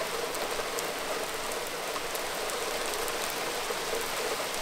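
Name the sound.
heavy rain with big drops falling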